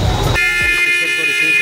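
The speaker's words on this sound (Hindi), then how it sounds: "और हॉर्न चेक कर सकते हैं इसकी" A single loud car horn blast, sustained and close, sounding after a brief burst of noise at the start.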